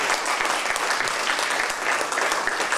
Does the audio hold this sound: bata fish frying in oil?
no